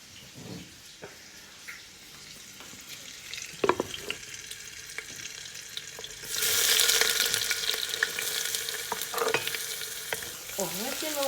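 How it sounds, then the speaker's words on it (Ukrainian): Butter melting in a pan with a few scrapes and clinks, then a sudden loud burst of sizzling as chopped onions drop into the hot butter for a mushroom soup, the frying hiss holding steady to the end. "масло нам розтопиться і ми кидаємо цибулі"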